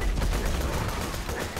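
Rapid gunfire from the video game Borderlands 2, a dense loud stream of automatic shots in quick succession, continuous and punchy throughout with no talking.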